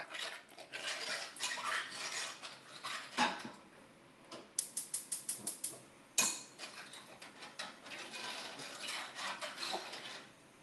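Pot of meatball sauce with soy sauce set onto a stove, giving clinks and clatters of metal cookware and utensils, a quick rattling run of taps in the middle, and a sharp knock after it, close by, with no talk.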